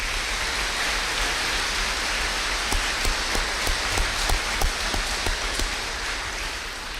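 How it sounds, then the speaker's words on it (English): A graduation ceremony crowd applauds veterans, a steady wash of distant clapping like rain with a few sharper claps standing out partway through. "Please give all of our veterans a round of applause"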